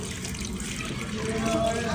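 Water runs steadily from a tap as someone washes their hands after a meal at a meat-and-rice eatery in Murshidabad, with people talking over the flow.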